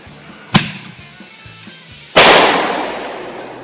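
A firework shell bursting in the air, heard as a sharp pop followed about 1.6 seconds later by a loud, close blast that crackles and fades slowly, over low background noise.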